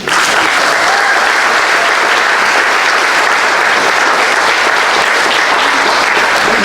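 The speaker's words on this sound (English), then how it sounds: "I would like to have everybody give a big round of applause to everyone that worked last evening and today in preparing this meal." Loud, dense applause from a dinner crowd at a Knights of Columbus 100th anniversary celebration, steady and sustained without a break.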